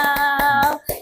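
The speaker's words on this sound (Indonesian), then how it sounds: "Oke deh, tepuk tangan dong." An audience on an Indonesian talk show with a guest ustadz claps hands, four quick rhythmic bursts over a sustained tonal background, close and fairly loud.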